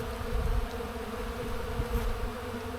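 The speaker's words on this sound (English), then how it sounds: "I'm going to put that on real quick because there's so many bees here" A dense swarm of honey bees hums steadily around an open hive body during a spring inspection, a loud, continuous buzz with no voices.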